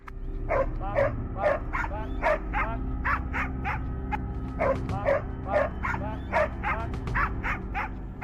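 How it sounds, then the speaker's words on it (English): A hunting dog barks repeatedly in quick yipping bursts, close and steady, chasing a wild hog through brush, over a low rumbling background hum. "The dog's barking leads us to another hog trying to hide"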